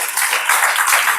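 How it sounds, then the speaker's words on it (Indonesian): A talk show audience at the National Library in Jakarta gives a short burst of steady, dense applause for a neurologist guest. "tepuk tangan dulu untuk Dokter Soleh"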